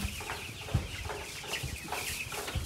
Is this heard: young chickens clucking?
yes